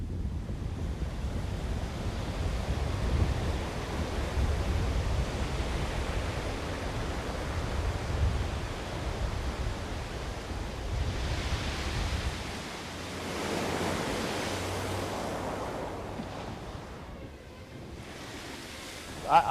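Steady ocean surf and gusting wind at Windmill Point in Hull, a seaside town: a continuous broad roar of waves with wind buffeting the microphone, easing slightly toward the end, with no talking.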